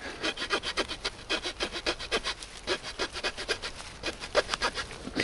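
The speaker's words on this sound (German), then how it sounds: "Also, sägen." Wood being sawn outdoors with the small saw blade of a military-style pocket knife, giving quick, even back-and-forth rasping strokes, close and clear.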